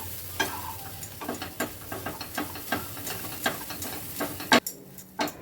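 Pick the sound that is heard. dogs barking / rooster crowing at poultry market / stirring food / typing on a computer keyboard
stirring food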